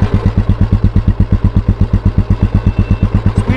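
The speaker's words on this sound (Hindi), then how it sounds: "अब सुन लो आवाज भाई इंजन की" A 1999 Royal Enfield Bullet single-cylinder motorcycle, an old model modified to a Classic look, runs close by with a loud, steady thumping idle, each firing pulse evenly spaced in a quick, regular beat.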